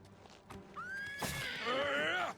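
A horse in the video game Oblivion Remastered lets out a loud, rising whinny that trails into a long shaky neigh, heard close and alone over faint background.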